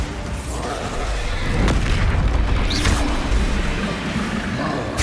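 Bombarda explosive spell blast in Hogwarts Legacy: a deep, loud boom that swells out of a thick, continuous wash of battle noise, with faint shouting nearby.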